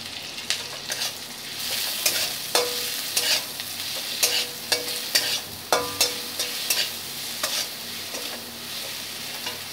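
Tomato frying in a pan for a bitter gourd curry: a steady soft sizzle with repeated sharp scraping strokes of a spatula stirring at an uneven rhythm, close and alone without talk.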